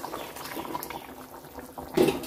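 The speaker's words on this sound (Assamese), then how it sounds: "আৰু 5 মিনিট সময় উতলাম" A pot of fish curry boils on the stove, with close, continuous bubbling and gurgling and a slightly louder burst near the end; no voices.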